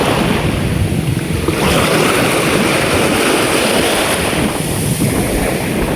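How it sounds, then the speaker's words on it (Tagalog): Heavy sea waves surge and wash continuously around a fishing boat, mixed with gusting wind buffeting the microphone. "Medyo malakas yung alon."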